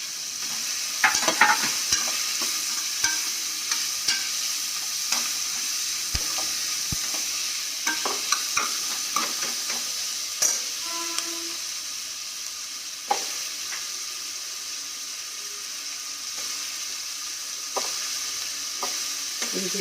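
Tomato and chillies sauté in a pan for coconut milk biryani, with a steady close sizzle broken by frequent sharp clicks and scrapes of stirring.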